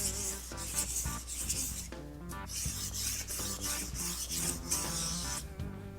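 A dull carbon steel knife sharpened on a glass water stone, producing continuous close rasping strokes back and forth with a slight ringing, steady rhythmic rubbing and no speech.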